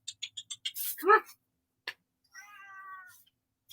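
Cat meowing indoors, a single clear drawn-out meow in a short burst alongside a person's voice and a few light ticks.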